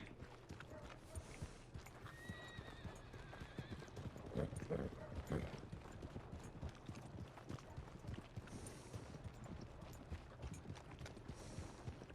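Horse hooves clip-clopping in the video game Red Dead Redemption (RedM) come as a steady, rapid patter of quiet hoofbeats throughout, with faint mechanical clicks and a brief whinny-like tone mixed in.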